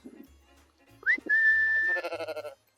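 Sheep on a smallholding in December, with a single close, clear bleat rising into a long wavering call after a brief low sound, heard alone with no talk.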